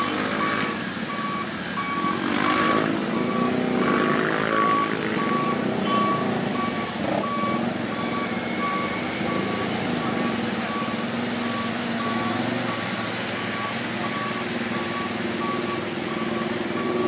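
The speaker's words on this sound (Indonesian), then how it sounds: "Awas itu truk berat di bawah tuh." Heavy trucks labour up the steep Gentong climb in Tasikmalaya, West Java, during peak holiday return traffic, a steady loud engine drone with a repeating reversing beep and passing vehicles, voices faint in the background.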